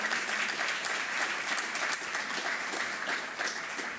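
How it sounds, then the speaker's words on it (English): Sustained audience applause at a behavioral health workforce symposium in San Diego, a dense steady patter of many hands clapping at even loudness throughout with no talk over it. "give a round of applause to all of you"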